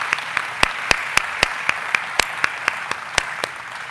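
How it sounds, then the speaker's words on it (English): A small audience at a distinguished alumni event gives a round of applause, with sparse, evenly spaced claps ringing out over a soft wash of room noise for several seconds, no talking. "If we could all give him a round of applause,"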